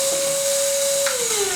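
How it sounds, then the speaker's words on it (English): A battery-powered 20-volt vacuum cleaner runs close by with a steady high whine, its pitch sliding slightly lower near the end, heard alone. "our vacuum cleaner."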